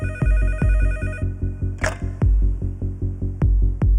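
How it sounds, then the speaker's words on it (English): A telephone bell rings loudly in a steady repeating pattern of short bursts, with no voices over it. "the phone finally rings"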